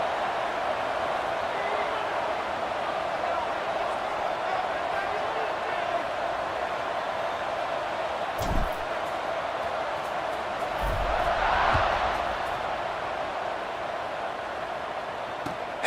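Roaring college football stadium crowd as Syracuse lines up to kick off against Cal, a sustained distant wall of noise that swells briefly near the end, with an announcer talking over it.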